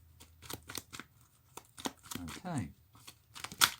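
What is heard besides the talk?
shuffling playing cards for a board game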